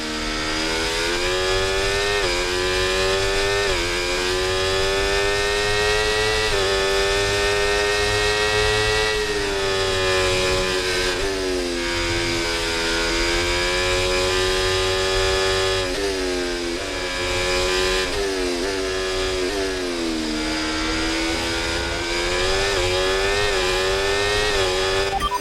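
Formula 1 race car engine in F1 24, loud and steady at close range, with the pitch climbing and dropping through gear changes over a continuous high-revving whine, running very hot.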